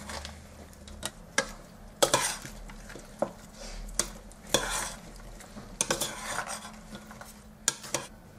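Caesar salad being tossed in a bowl, heard as a quiet series of irregular clinks and scrapes of utensils against the dish, with soft rustling in between and no talk.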